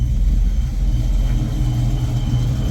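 A 1995 Ford Mustang GT (SN95) engine idling after running about twenty minutes, a steady low rumble with an even, continuous drone and no talk.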